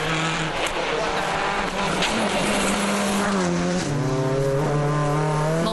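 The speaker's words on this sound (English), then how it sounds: "Maintaining high speeds as the car passes just a few feet from the front doors of these houses" A WRC rally car races through a village lane past houses on Corsica's Tour de Corse, its engine screaming loud and close with sharp gear changes and a falling pitch as it sweeps by. A commentator speaks over it.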